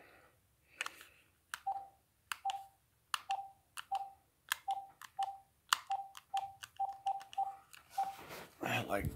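A rapid run of short electronic beeps, a phone keypad being dialed one tone after another in an uneven rhythm, ending in a louder burst.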